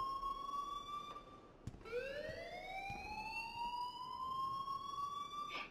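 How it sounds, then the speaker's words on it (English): A siren-like alarm blares in the video game Life Is Strange, a steady high electronic wail with several rising sweeps, loud and continuous with no talking over it. "please turn off that alarm since that's your job."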